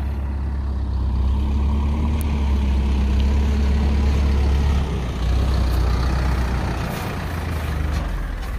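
Soil-laden dump truck idling before unloading, a loud steady low diesel rumble close by, dipping briefly near the end, with faint higher clatter and no voices.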